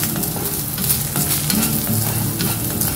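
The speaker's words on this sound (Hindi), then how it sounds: "अब इसको हम अच्छे से फ्राई कर लेंगे।" Finely chopped garlic cloves frying in hot oil in a pan, a continuous loud sizzle with stirring clatter throughout and no voices.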